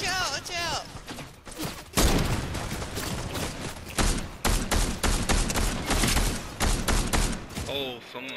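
Bursts of rapid gunfire in a shooter video game, loud volleys of overlapping shots arriving in clusters, with players talking between the shots.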